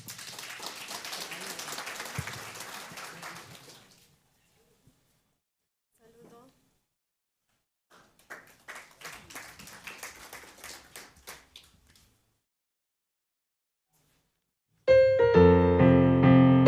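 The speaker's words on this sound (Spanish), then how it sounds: "fuerte los aplausos" A congregation claps for a few seconds at a Sunday church service, fades to near silence, then scattered claps return before loud choir music starts at the end.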